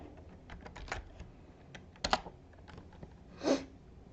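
Keys clatter on a computer keyboard during server software setup, scattered close taps with a couple of louder presses, quiet and without talk.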